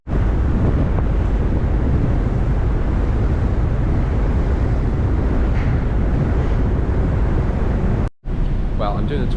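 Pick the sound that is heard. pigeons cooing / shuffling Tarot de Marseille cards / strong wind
strong wind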